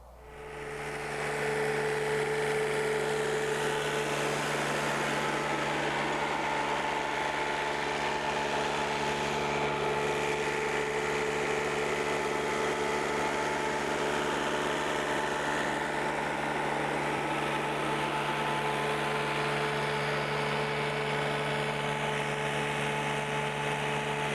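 An Alamo Industrial TRAXX RF mower works among trees with a steady, continuous engine drone that holds an even level for the whole stretch, alone with no talk.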